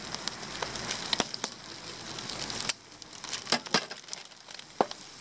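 A mozzarella cheese package is ripped open by hand, giving a run of close crinkling, crackling plastic tears and sharp snaps that come in irregular bursts, with a brief quieter gap midway.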